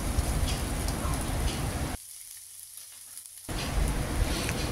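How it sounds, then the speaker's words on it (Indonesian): Spice paste made with shrimp paste and dried anchovies sautéing in hot oil for a rose apple sambal, a dense close sizzle that drops out briefly in the middle before resuming. "Setelah minyaknya ini panas, tinggal kita tumis saja bumbunya."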